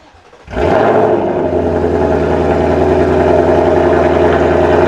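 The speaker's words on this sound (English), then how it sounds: "We are surprising my girlfriend with a new exhaust for her 2024 Mustang GT" A 2024 Mustang GT fitted with a loud new exhaust fires up, then settles into a deep, steady rumbling idle close by that holds without pause.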